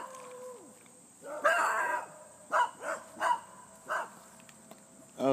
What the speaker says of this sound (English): Those are the two beagles that used to come up and bark at me